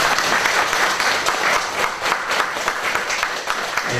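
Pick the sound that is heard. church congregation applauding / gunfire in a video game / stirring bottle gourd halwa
church congregation applauding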